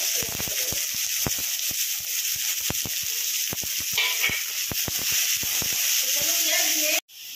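Onions frying in hot oil in a pan during home cooking of a Bengali fish curry, a loud continuous sizzle with repeated sharp clinks of a utensil stirring, cut off abruptly at the end.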